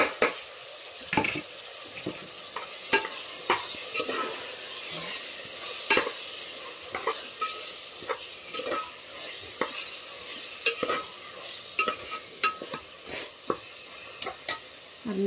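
Keema masala frying in a pan with turmeric and red chili powder, with a utensil scraping and stirring in repeated sharp strokes over a soft sizzle, close and fairly quiet.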